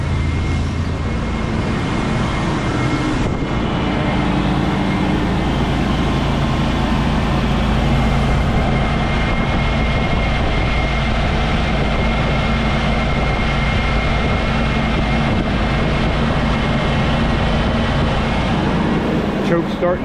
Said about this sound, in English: I fired her back up. It's running a little rough,